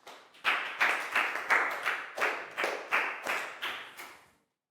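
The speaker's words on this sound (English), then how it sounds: "High five and a big round of applause for Nadia" A small group of children clapping in a classroom for a classmate, in about ten quick rhythmic bursts, close and fairly loud, with no talking, ending in silence.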